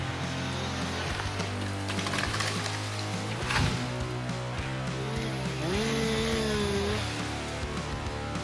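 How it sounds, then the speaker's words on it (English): A chainsaw engine runs steadily with its chain spinning at high speed, a dense loud buzzing drone that holds for several seconds with slight pitch shifts as it bites into wood. "When the engine runs, the chain spins at high speed"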